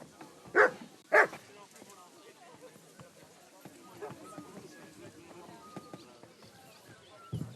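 Two loud, sharp dog barks in Kingdom Come: Deliverance 2 ring out close together near the start, followed by quieter ambient activity and a final soft thump.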